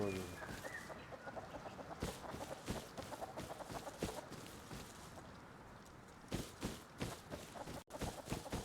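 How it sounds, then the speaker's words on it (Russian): A chicken clucks in the survival video game Rust, faint short calls scattered among footsteps and rustling game sounds, with no clear talk over them. "Где-то курица вроде."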